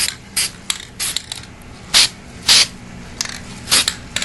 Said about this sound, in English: Take your black spray paint or whatever you have, and just do a fine outline.